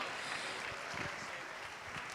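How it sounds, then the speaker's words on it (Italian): A distant, muffled crowd applauds a basketball team from Mestre celebrating promotion to Serie A2, a faint, even wash of clapping with some low rumble and no clear voices. "un altro applauso a tutti i ragazzi per questa conquista della Serie A2 nazionale"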